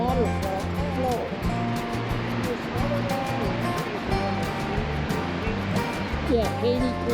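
Broad, steady roar of the waterfall flow at Fall Creek Falls, loud and continuous throughout with people talking over it.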